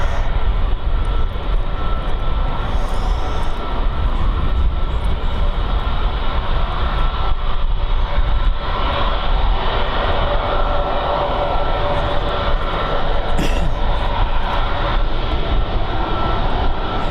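A Turkish Airlines jet departs Birmingham Airport bound for Turkey, its engines a steady, loud broadband roar that holds throughout with slight swells, heard without any talk.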